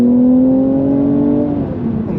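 A Mercedes-AMG C43 (W205) accelerates hard from 30 to 70 on a dual carriageway. A loud, steady engine tone climbs and then dips briefly partway through, like a gear change, before the pull continues.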